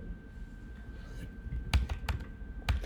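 Computer keyboard keys being typed on at a desk, a few soft clicks building to several sharper, louder keystrokes spaced irregularly, close and alone without talk.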